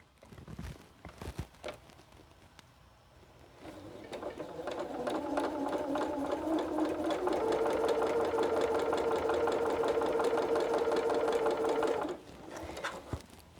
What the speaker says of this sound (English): Then I'll take it to my sewing machine.